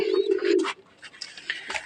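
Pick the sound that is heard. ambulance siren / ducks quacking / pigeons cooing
pigeons cooing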